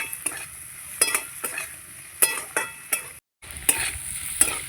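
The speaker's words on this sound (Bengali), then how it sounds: "আলুটাকে এবার ভালো করে একটু কষাবো।" Potatoes are stir-fried in a dry pan with no water, a spatula scraping in a brisk, uneven rhythm over a steady frying sizzle, with one brief silent gap.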